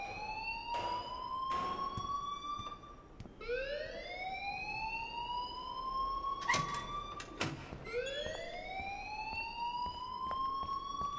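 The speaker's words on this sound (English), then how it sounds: "please turn off that alarm since that's your job" An alarm blares in the video game Life is Strange, repeated rising electronic whoops like a siren sweeping upward, loud and continuous across the clip with a few short clicks and clatters layered over it.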